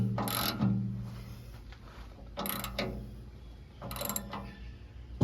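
A 19mm socket on a ratchet wrench tightens bolts on a BXPANDED Pro Piranha tooth bar fitted to a tractor bucket. Three separate bursts of quick metallic clicking come close and fairly loud, with quieter pauses and handling noise between them.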